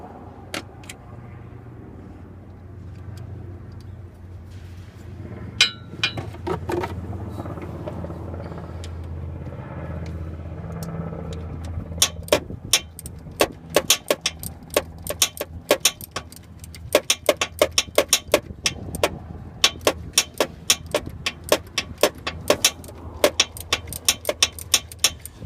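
Hand tools tightening the two bolts of a starter motor: a quiet stretch with a few metallic clinks, then a long run of rapid ratchet clicks in uneven bursts, close by.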